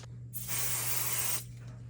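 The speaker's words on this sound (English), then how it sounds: "I'm going to spray this with a little 505 spray" 505 spray adhesive misted from an aerosol can onto a quilt top for machine embroidery: one steady, fairly close hiss lasting about a second, with a faint low hum underneath and no talk.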